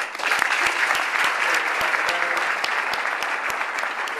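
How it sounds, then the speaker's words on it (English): An audience at a charity dinner for multiple sclerosis claps in sustained, dense applause, with a few sharp individual claps standing out throughout. "So I want to give Jeff a round of applause."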